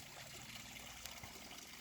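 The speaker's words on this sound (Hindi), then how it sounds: "यह निरंतर झरना झरता रहता है, पानी बहता रहता है" A mountain waterfall in the Swiss Alps flows in a steady, faint, far-off rush with no one speaking.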